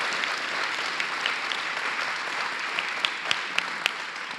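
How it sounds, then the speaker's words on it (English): Audience applause for a congressman at an event with the US Secretary of Education at a pre-K school in Pittsburgh, a steady wash of clapping from a room of people with a few sharper claps standing out near the end. "Could we please have another round of applause for Congressman Doyle for all of his hard work and leadership?"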